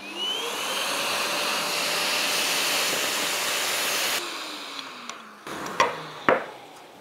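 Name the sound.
drilling a hole with dust extraction hose connected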